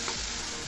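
Pieces of taro fry in a hot pan with a brief, dense, crackling sizzle heard up close.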